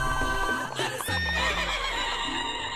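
Horse neighing in a cartoon scene, a loud, close whinny with a shrill rising peak and a long trailing whinny, over steady background music and some hoof clatter.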